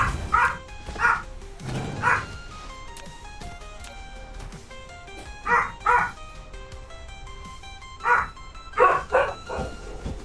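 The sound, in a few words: dog barking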